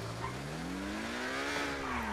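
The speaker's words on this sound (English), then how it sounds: "Oh, the car sounds weird." A video game car engine hums with a smoothly rising then falling pitch, steady and moderately loud, like a vehicle revving and easing off.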